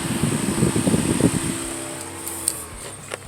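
Radiator cooling fan on a 1997-2001 Toyota Camry running steadily with a broadband whir, loud at first then easing slightly, with a few faint clicks near the end.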